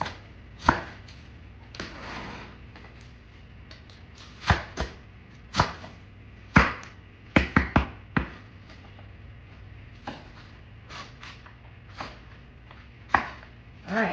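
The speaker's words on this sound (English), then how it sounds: "we want to chop the rest of it" Knife chopping lettuce for a cheeseburger salad on a cutting board, crisp irregular thuds close by, sometimes in quick bursts and sometimes spaced out, with no talking.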